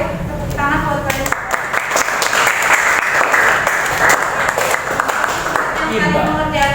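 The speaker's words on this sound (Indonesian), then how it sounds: "boleh tepuk tangan buat kalian" A classroom of students claps together in sustained, dense applause during a teacher's practical lesson, the clapping loud and continuous from start to finish with a few voices mixed in.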